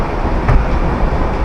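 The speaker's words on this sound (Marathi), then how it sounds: "सो मित्रांनो फायनली आता पोचलो आहे मी ट्रेनमध्ये" Interior of a moving train, heard as a loud, steady low rumble of wheels and carriage noise with a broad roar that stays even throughout.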